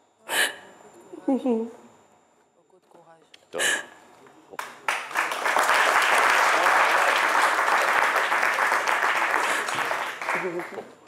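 An audience breaks into sustained applause after a few seconds of talk and vocal sounds, the clapping swelling loud and dense for about six seconds before tapering as a voice returns.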